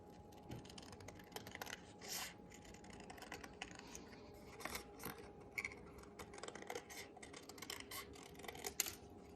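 Scissors snipping through paper while cutting out fish puppet lips for a children's arts and crafts class, a steady run of small close crisp cuts with no talk.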